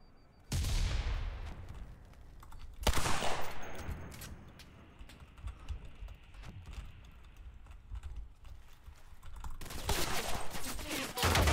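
Gunfire in Cuisine Royale, loud sudden volleys of shots in bursts with rattling quieter stretches between them, close and dominant with no voices.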